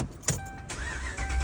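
A car's engine cranks and catches, then settles into a steady hum with a faint electronic tone in the cabin, close and fairly loud over about a second and a half.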